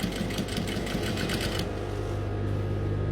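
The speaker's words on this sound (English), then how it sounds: "I'll make a pin top stitch there. So align your fabric while you're sewing," A sewing machine runs steadily, top-stitching a fabric pocket, its needle rattle loud and close with a constant motor hum throughout.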